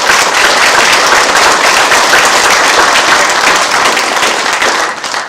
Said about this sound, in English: If we could pause for a round of applause for them